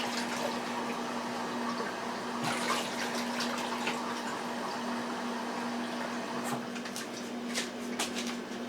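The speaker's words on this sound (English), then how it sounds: "I want to show you that so you can see how much water I'm adding" Water pours steadily for cooking cornbread stuffing with cabbage, potato and apricot preserve, a continuous close splashing stream under a faint steady hum.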